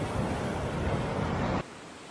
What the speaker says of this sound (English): Bracklinn Falls is made up from the plummeting rapids of Kelty water.